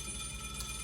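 A telephone rings during a school drama club stage play, a faint, steady tone heard against room hiss and a low hum, with no voices.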